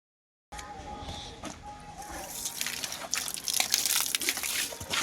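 Water poured and splashing over the fresh concrete of a newly built house in Madhubani being cured during railing work, a steady trickling and splattering that grows louder and busier toward the end, with no talk.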